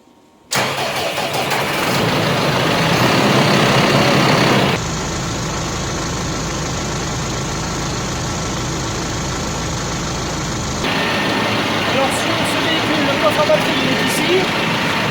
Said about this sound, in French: je vais mettre le moteur en route